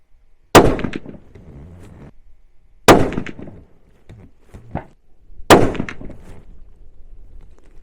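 Three loud, sharp rifle shots at an outdoor shooting range from a Sako S20 and a Fierce CT Rival, spaced a couple of seconds apart, each with a quick decaying echo.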